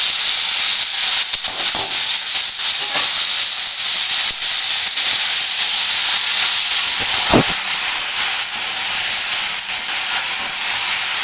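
Cabbage sizzling in a hot pan for a Bengali-style mixed vegetable dish, a steady loud hiss of frying and steam lasting throughout, with a few faint stirring knocks and no talking.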